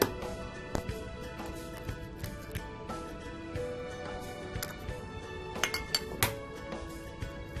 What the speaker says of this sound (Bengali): প্রথমে আমি ডিম দুটাকে ফাটিয়ে নিচ্ছি।